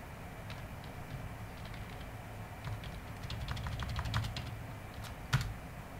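Typing on a computer keyboard while writing PHP code, soft irregular clicks and clusters of keystrokes close by over a low steady background hum.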